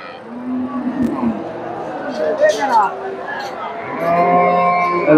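Friesian cross dairy cows and calves moo repeatedly at a crowded cattle market in Dakumara, several long low calls close by over steady crowd chatter and background voices.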